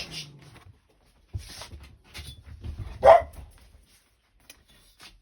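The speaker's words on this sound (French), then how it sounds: "Pardon, c'est mes toutous." Pet dogs indoors give a handful of short, sharp barks, one loud bark standing out midway, with brief pauses and soft background rustling.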